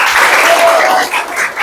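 Classroom students clapping together, a loud, close burst of many hands that holds steady for over a second before thinning toward the end.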